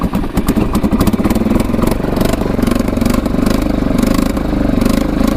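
A Kawasaki 4x4 ATV engine idles while warming up, a loud, close, steady chugging rumble with a fast even pulse and slight mechanical clatter, with no talk.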